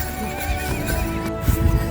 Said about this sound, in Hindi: और ये देखो दौड़ रहा है घोड़े।